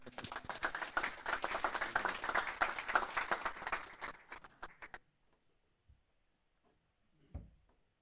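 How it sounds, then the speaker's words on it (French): A conference audience at the International Strength Nights strength-training event claps in a dense, lively burst for about five seconds, then it stops abruptly, leaving near silence broken by a couple of faint thumps. "On peut applaudir Augustine, s'il vous plaît."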